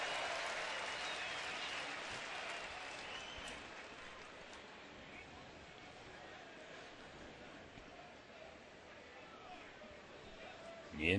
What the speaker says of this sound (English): There's the cheer.